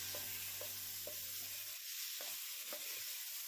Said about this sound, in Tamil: சிம்மில் வச்சுட்டு இதை நல்லா சிம்லேயே ஃப்ரை பண்ணி எடுக்க போகிறோம்